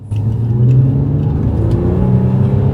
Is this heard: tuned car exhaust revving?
yes